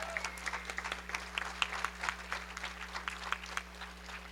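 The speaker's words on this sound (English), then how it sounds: "let's clap for LGBT rights." Convention audience applauding at a 2013 candidate speech plenary, a steady patter of many hands clapping with a low steady hum beneath.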